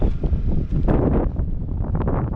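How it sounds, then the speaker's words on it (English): Steady wind buffets the microphone in a constant low roar at a campground, with gusty rumbling and no clear voices. "it's very windy"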